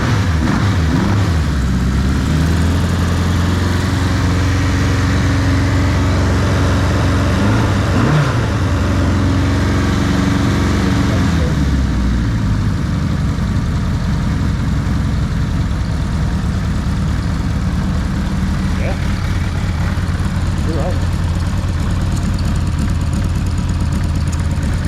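Can-Am DS650 quad fitted with a stock Suzuki GSX 1100 engine turns over on a little choke and catches, then settles into a steady, loud, close idle with a few blips of revs.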